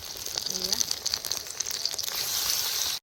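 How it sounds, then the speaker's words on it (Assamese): Onions crackle and sizzle in hot oil, a dense frying hiss that swells and holds steady before cutting off abruptly. "তেল ঢালিয়ে পিঁয়াজ দি দিলোঁ একেবাৰে"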